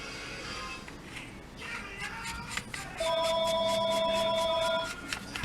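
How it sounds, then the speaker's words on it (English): A telephone rings in a workshop for about two seconds, a steady electronic tone with harmonics, sounding over faint background noise and light clatter. "there's the phone"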